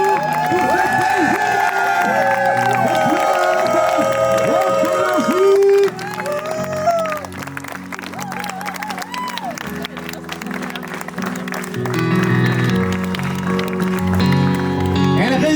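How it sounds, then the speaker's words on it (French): Wedding crowd cheering and applauding loudly and continuously, with shouts and whoops rising over steady clapping, while voices call out and music or announcements carry through the din. "est-ce qu'on peut lui dire bien fort, est-ce qu'il y a des cris de joie pour cette belle"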